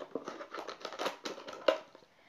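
Scissors cut through a rolled-up piece of material in a few quick snips close by, the short crisp strokes followed by a final sharper cut and a brief rustle.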